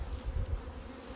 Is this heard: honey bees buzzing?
yes